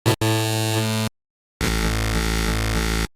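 Loud, buzzy synthesizer tones built from an imported single-cycle wavetable play as two sustained notes separated by a brief silence, the second one pulsing slightly as its harmonics shift.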